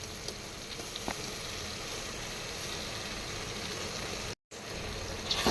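Ginger garlic paste sizzles in a pan with sautéed onions and tomatoes, a steady broadband frying hiss held at an even level with a brief dropout near the end; no voices.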